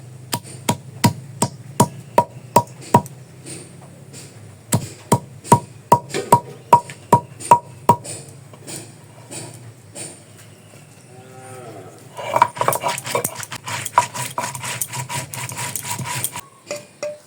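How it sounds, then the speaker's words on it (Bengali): Cumin, cinnamon and cardamom are ground with a little water for a Bengali vegetarian dish. Steady rhythmic scraping strokes repeat at first, then give way to a denser, continuous grinding rasp, close and fairly loud, with no talking. "এগুলো বেটে নিব। নিরামিষ রান্নার মধ্যে বাটা মশলাটা দিলে দারুণ খেতে লাগে। সামান্য একটু জল দিয়ে বেটে নিব।"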